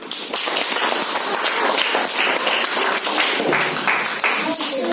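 Children in a Class 5 classroom clap after a roleplay skit, a continuous busy patter of small hands that stays even and moderately loud, with voices mixed in underneath.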